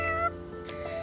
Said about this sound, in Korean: 어디서 고양이 울음소리가 들려왔어요.